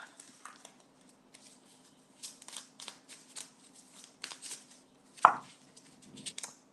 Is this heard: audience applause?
no